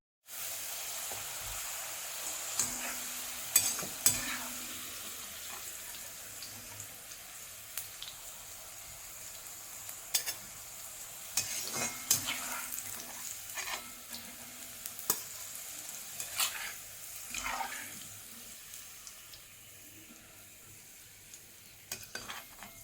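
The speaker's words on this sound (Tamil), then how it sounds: "இதே போல் மீதி இருக்கிறதையும் நமக்கு ஃப்ரை பண்ணி எடுக்கலாம்." Bitter gourd pieces fry in hot oil, giving a continuous close sizzle and hiss broken by occasional scraping stirs, with no talking.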